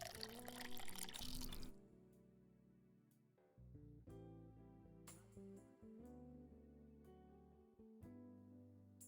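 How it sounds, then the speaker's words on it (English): Tap water pours into a cooking pot meant for boiling spaghetti, a loud splashing rush for the first second or two before giving way to background music. "Put some water into a pot, about 3/4 full."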